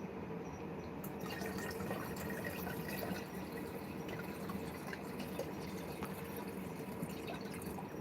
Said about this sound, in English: And I will fill this up with the opal material.